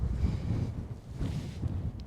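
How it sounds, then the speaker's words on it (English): Strong summer wind at a wild camping spot on open fell land, blowing a steady 25 with gusts, as a continuous low buffeting rumble against the microphone with no voices. "it wasn't supposed to be this windy tonight anyhow."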